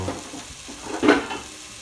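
Garlic and ginger cook in a covered pan, giving a soft, continuous low sizzle that swells briefly in the middle.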